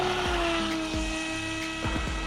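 An Eachine EBT04 brushless RC boat speeds through shallow water, its motor giving a close, steady high-pitched whine that rises and dips in pitch as it runs, with no voices.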